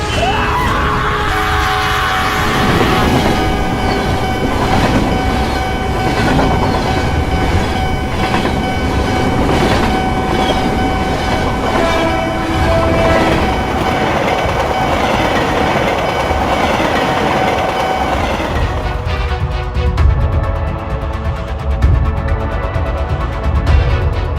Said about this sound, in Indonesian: Jauh dari rel, kereta udah dekat.